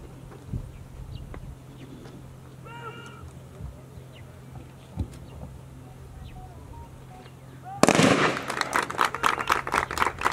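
Police trainees fire rifles in a shooting exercise, and rapid loud gunshots erupt in a dense volley after quieter scattered pops and background noise.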